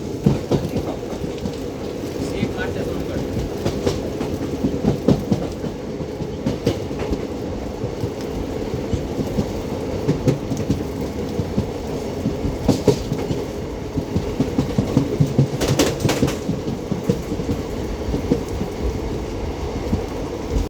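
An intercity passenger train runs steadily on the Bhavnagar to Ahmedabad line, heard from on board as a continuous loud rumble with rhythmic clickety-clack of the wheels over rail joints and no talking.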